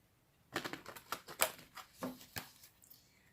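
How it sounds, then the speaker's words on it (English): A quick series of crisp, papery riffling taps of tarot cards being shuffled close by, with short pauses between bursts. "I shuffle the cards until I feel it is done."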